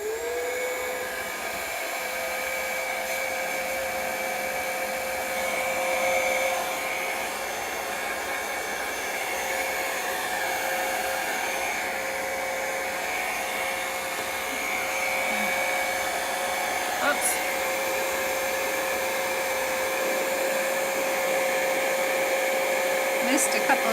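A hair dryer runs steadily and close for the whole stretch, a constant whirring blow with a fixed whine, drying a still-wet chalk art hat.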